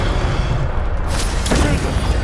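An Incendio fire spell cast in Hogwarts Legacy brings a sudden booming burst, then a second whooshing blast about half a second later, over steady background game noise.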